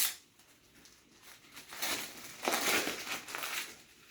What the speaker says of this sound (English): They're all individually wrapped, so just go ahead and unwrap it.